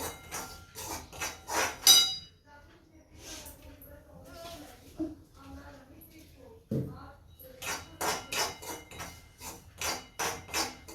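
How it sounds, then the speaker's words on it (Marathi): Onion and tomato are chopped on a board in a home kitchen, with quick runs of sharp, close knife taps, a pause in the middle and another run at the end, while someone talks between them. "कांदा टोमॅटो चिरणार आहे इकडे."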